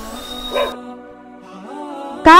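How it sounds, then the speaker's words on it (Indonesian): A single dog bark rises over a sustained musical tone, and another sharp bark cuts in abruptly at the end. "anjing."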